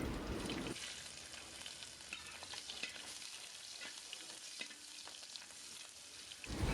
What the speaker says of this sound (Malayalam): ഇഞ്ചി ചേർത്ത് 1 മിനിറ്റ് ഒന്ന് സോട്ട് ചെയ്തതിന് ശേഷം